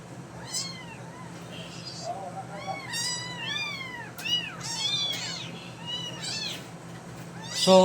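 A rescued cat meows repeatedly, several rising and falling cries spread through the clip, close and clear over a low steady hum.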